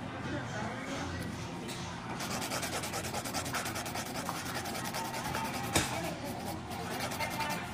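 A hand nail file rasps over acrylic powder nails during a refill, a close, continuous scratchy rubbing with a quick back-and-forth rhythm while someone talks over it.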